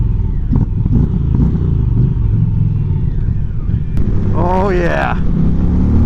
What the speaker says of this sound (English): Really good throttle response as I idle down here.